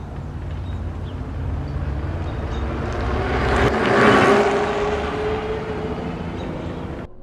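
Juiced Scrambler electric bike ridden on throttle alone in race mode, a steady whirring motor hum with road and wind rush that swells toward the middle and eases off, no pedaling.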